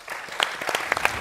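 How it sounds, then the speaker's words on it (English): Warm applause from a conference audience at a closing thank-you, a brief burst of scattered claps rising to a fuller patter over about a second, moderately loud. "With a warm applause, please help me."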